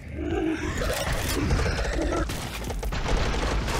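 Gunfire in the video game Wildcat Gun Machine: a dense, continuous barrage of rapid shots and booming blasts, loud and busy from start to finish with no pauses.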